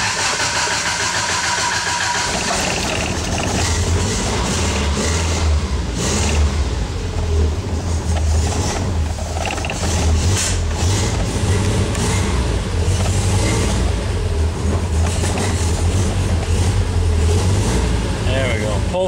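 Triumph Spitfire 1500 engine running steadily at idle, a continuous low mechanical drone with a faint rough pulse, close by, with people talking over it.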